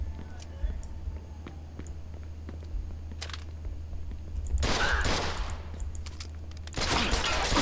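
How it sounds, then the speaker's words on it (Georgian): Police gunfire in the video game Mafia 2 comes in rapid, crackling bursts of several shots midway and again at the end, over a low steady game hum, with a voice talking in between. "ნახე ეხა სროლს დამიწყებენ და მომკლავენ."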